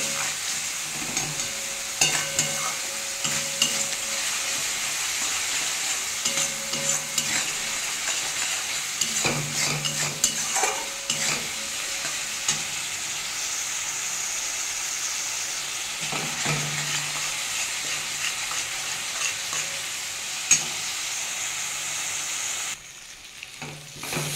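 Spice masala for an okra curry sizzles and fries steadily in a hot pan, with faint stirring scrapes and clinks recurring throughout, close and continuous, with no talking.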